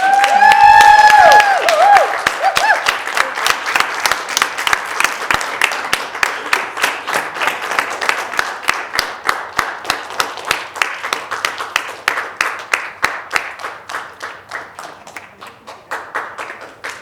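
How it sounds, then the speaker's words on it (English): Audience at an in-person storytelling session bursts into loud applause after a brief opening cheer, the clapping thinning into a slower, steady rhythmic clap that fades toward the end. "we'll give them a big round of applause for putting this together"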